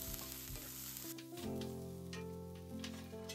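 Daikon leaves coated in soy sauce and bonito flakes are mixed in a pan, a faint sizzle under a couple of soft scraping strokes and a gentle thud.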